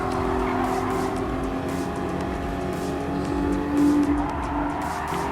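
A Nissan 350Z race car in Gran Turismo Sport's one-make race on a circuit, a continuous engine drone with shifting revs and faint tire noise, steady and close throughout.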